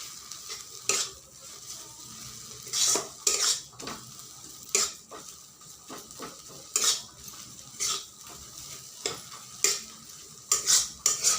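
Water spinach fries in a pan, with a steady sizzle under repeated scraping strokes of a spoon or spatula against the metal. The stirring is close and rhythmic, and no one speaks.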